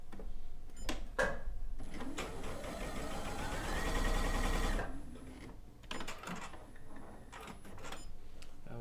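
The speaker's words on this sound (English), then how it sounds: "Let me do a quick test sew on a piece of scrap." A sewing machine does a test stitch on a scrap of fabric, a few short clicks and taps before a sustained loud whirring run of several seconds, followed by more intermittent mechanical clicks.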